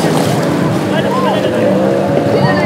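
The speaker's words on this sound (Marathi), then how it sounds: "आणि आता बोट स्पीड पकडेल. मोटर बोट पुढे आहे आणि त्याच्या मागे ही बोट आहे." A motorboat speeds across the sea off Malvan's Dandi Beach, its engine a steady, loud drone with water rush, while voices talk over it.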